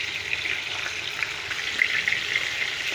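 Chicken frying in a pan for a tomato chilli chicken, a steady close sizzle with faint stirring and no talk.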